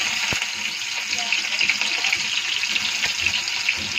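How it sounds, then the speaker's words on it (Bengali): Green chillies hit hot oil in a pan and set off a loud, steady crackling sizzle with a few sharp pops, close and continuous, with no talking over it. "এখন তেলটা গরম হয়ে গেছে, এখন আমি কাঁচা লঙ্কাটা ছেড়ে দেবো।"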